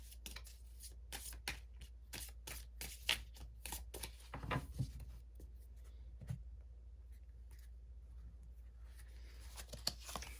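Tarot cards being shuffled, a quick run of crisp riffling flicks that slows into sparser soft card taps, close and quiet, with no talking.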